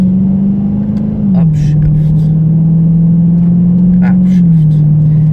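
A car with an automatic gearbox in manual mode holds a loud, steady engine drone, and its pitch drops twice as it shifts up. The engine is close and continuous throughout.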